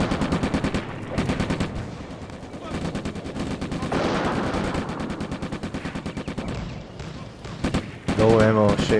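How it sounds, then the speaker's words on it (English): Gunfire from the Combat Mission: Afrika Korps video game, in a Bir Hakeim battle: rapid, rhythmic machine-gun bursts rattle almost continuously, with a louder volley near the end. "This guy is now actively shooting at the infantry."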